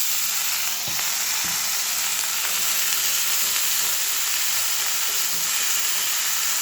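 Drumstick (moringa) greens sizzle and fry steadily in a hot wok, with occasional soft clinks of stirring.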